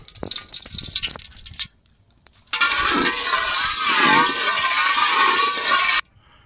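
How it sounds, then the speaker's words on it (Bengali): Cooking oil poured into a hot pan for a chicken curry, a close, steady sizzling rush that starts abruptly after a pause, holds loud for a few seconds and cuts off, following earlier clattering handling noise. "এই নেন, তেল ঢেলে দিলাম"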